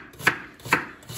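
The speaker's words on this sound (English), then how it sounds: "we're going to cut our onions for our" Onions being cut with a knife on a cutting board for stuffed bell peppers, three crisp evenly spaced chops heard up close with quiet pauses between.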